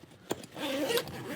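A metal zipper pull drawn along the track of a nylon carrying case for a Milwaukee M12 Fuel high-speed ratchet kit, a short close rasp with an initial tick, then a steady scratchy run of about half a second.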